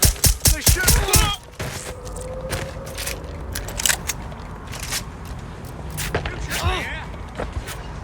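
Gunfire in Watch Dogs Legion: a quick volley of sharp, loud shots at the start followed by scattered single cracks and impacts, with a voice speaking between them.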